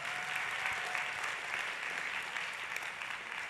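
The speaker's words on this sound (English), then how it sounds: "give them a round of applause" A conference audience gives sustained, even applause, a dense wash of clapping from a large crowd lasting the whole stretch.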